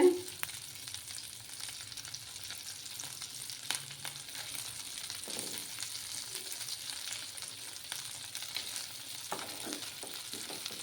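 Dry fish with potato and brinjal sizzling steadily in a hot pan, a continuous close crackle with occasional stirring scrapes, no voices.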